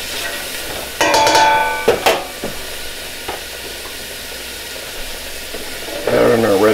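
Onions sizzling in a pan as they are stirred: a steady soft frying hiss runs throughout, broken by a few sharp clinks and scrapes of the utensil against the pan, close and without talking.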